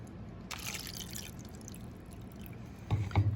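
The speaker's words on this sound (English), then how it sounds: "Now we're going to give it a bath in water and leave it overnight" Water trickles and drips into a container holding an egg, a soft, fairly quiet pour with a brief louder splash near the end.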